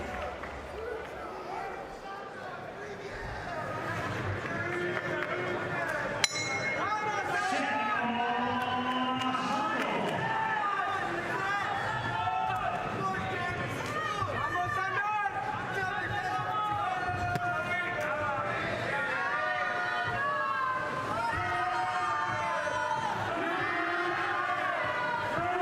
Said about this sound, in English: The home crowd in full voice.